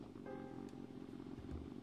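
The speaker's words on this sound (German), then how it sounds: "Was ist das für ein Geräusch? Ein Motor." A faint, low motor hum in the video game Edna bricht aus, a steady throbbing drone that runs throughout the short moment and is heard alone, with no voices over it.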